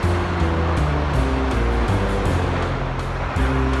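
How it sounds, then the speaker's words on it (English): Steady broadband rush of a river running through Zurich, Switzerland, down toward Lake Zurich, a continuous close flowing-water wash with a low droning hum layered beneath it and no talking. "This is the river behind me that heads down to Lake Zurich"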